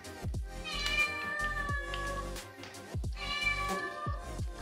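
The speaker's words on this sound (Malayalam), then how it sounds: "പൂച്ചക്കുട്ടി എന്നെ നോക്കി കരഞ്ഞുകൊണ്ടിരിക്കുന്നത് കേട്ടോ." A kitten meows repeatedly and insistently close by, several drawn-out cries in a row with short pauses between them.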